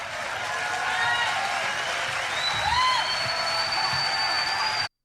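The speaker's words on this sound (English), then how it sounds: "People literally cheering for this" A crowd cheering and whooping at a conspiracy conference held in a pastor's church, a steady roar of voices with shouts and whistles rising over it, and people talking within the noise.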